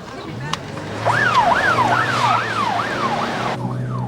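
An ambulance siren wails in rising and falling sweeps, growing louder as it approaches on a street with traffic noise, then cutting off abruptly near the end.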